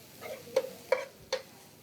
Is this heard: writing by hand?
no